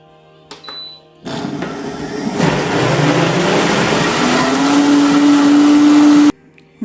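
A kitchen blender blending frozen blueberries for homemade fruit popsicles runs loud and steady for several seconds, its motor pitch rising as the fruit breaks down, then cuts off abruptly.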